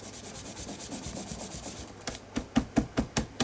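A sponge or brush pounces paint onto an art journal page in quick rhythmic dabs, soft and even at first, then sharper, louder taps spaced about a fifth of a second apart.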